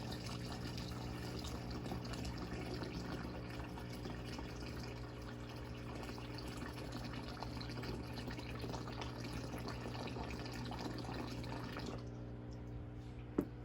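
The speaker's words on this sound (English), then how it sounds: "her water is kind of low, so we're gonna add some more" Water pours steadily into a pet turtle's tank for over ten seconds, a continuous close wash of filling liquid with faint dripping, ending with a brief bump.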